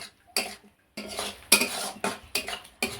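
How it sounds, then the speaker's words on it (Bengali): Spoon stirring yogurt and spices with pointed gourd in a pan over low heat, a series of sharp scraping and clinking strokes in an irregular rhythm, close and fairly quiet, with short silences between them. "এবার দইটা দিয়ে খুব ভালো করে এটা কষিয়ে নেব।"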